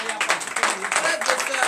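Congregation clapping during a Sunday church service in Bénin, quick rhythmic hand claps mixed with singing or talk over them.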